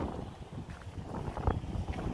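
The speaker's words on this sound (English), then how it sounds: "Oh, it's still windy." Wind blowing outdoors, a steady broadband rush buffeting the microphone with low rumbling gusts throughout, no talk.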